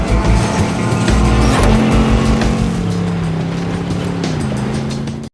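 A hijacked car speeds during a chase, its engine roaring loud and close in a steady, droning rush that dips slightly in pitch toward the end, with no talk.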